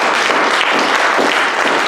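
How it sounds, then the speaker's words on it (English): Church congregation at a Sunday service clapping their hands, a loud, dense, sustained burst of applause from many people close by. "You want to clap your hands."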